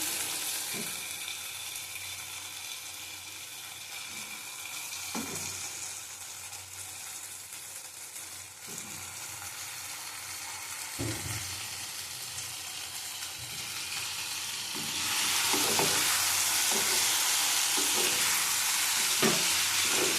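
Chicken, pre-boiled with salt and turmeric, frying in spice paste for chicken malai curry, a steady close sizzle with intermittent stirring scrapes and thuds, the frying hiss swelling louder near the end, no talking.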